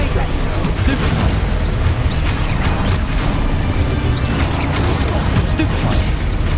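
Spell explosions and magical blasts from the Hogwarts Legacy video game pile up into a loud, constant barrage of booms and crashes with no pauses, and voices shouting over the din.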